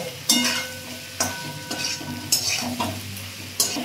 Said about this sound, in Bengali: দিয়ে এটা ভালো করে একটু কষিয়ে নেব